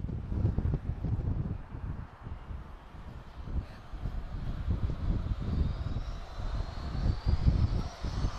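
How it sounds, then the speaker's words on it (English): An Airbus A319-111 airliner's engines roar steadily at close range, a broad continuous rumble with wind buffeting the microphone and a faint rising whine toward the end. "It's an A319 111, so my favourite airliner, the A319."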